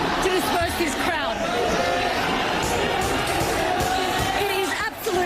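Dense, chaotic crowd noise from protesters as riot police charge, with pepper spray in use: a constant loud wash of overlapping shouts and voices with scattered whoops, sustained throughout without a break.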